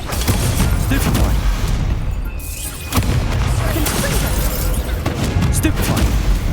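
Stupefy spell cast in Hogwarts Legacy during a duel, with sharp booming blasts and crackling impacts over a rumbling combat bed, loud, with a brief quieter lull midway.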